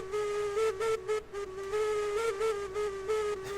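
A train whistle in the video game Railroads Online sounds a code while beams are loaded: a steady tone broken into several short and longer blasts, clear and close.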